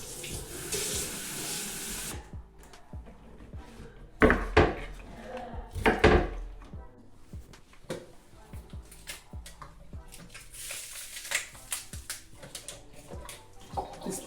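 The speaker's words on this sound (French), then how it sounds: "first I'm gonna wash the spring onion" Tap water runs into a sink while spring onion is washed by hand, a steady hiss with clattering dishes and wooden knocks, including a couple of louder splashy bursts partway through.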